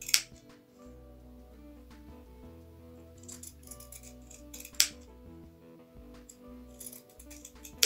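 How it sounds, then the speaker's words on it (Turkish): Pinking shears snip along fabric edges while sewing a baby nest, giving sharp metallic cuts at a few points over a low steady background hum. "kenar temizleme kısmını da nervi makasıyla yapacağım"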